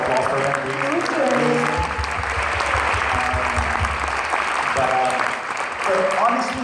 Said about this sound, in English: So a big round of applause for them, please.